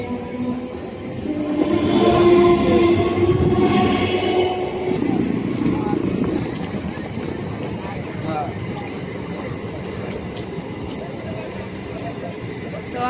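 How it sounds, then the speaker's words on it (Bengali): Up and down trains roll into a railway platform together, a loud continuous rumble of wheels and carriages that peaks early then eases to a steady drone, with station chatter around it. "আপ ট্রেন আর ডাউন ট্রেন একসঙ্গেই প্রায় প্ল্যাটফর্মে ঢুকলো।"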